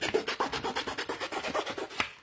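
Scissors snipping around the outline of a paper flower decoration, a quick steady series of close, crisp rasping cuts.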